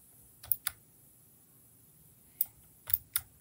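A few key presses on a computer keyboard, with two quick clicks and then a short cluster of three more, sharp and close against a quiet background.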